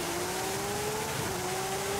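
Race car engine in Forza Horizon 5, an S1 900 class car on an underground circuit, holding a steady high droning note at sustained speed, loud and continuous with no talking.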